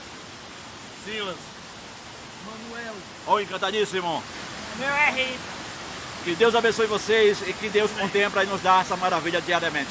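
The Cachoeira do Boi Morto waterfall pours as a constant broadband rush in the background, while several people talk over it throughout.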